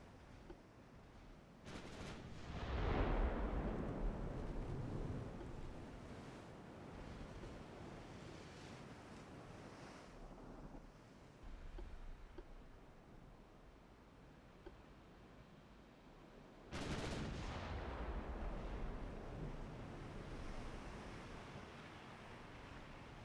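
Naval gunfire in the Ultimate Admiral Dreadnoughts game: two heavy booming blasts a few seconds apart, each followed by a long rumbling decay over a low sea-and-wind ambience.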